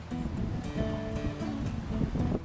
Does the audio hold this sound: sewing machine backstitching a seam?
no